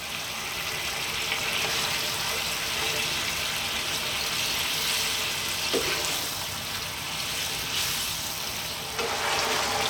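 Lamb and potato curry simmering in a pan, a steady close bubbling hiss that holds evenly throughout with small pops and no talking.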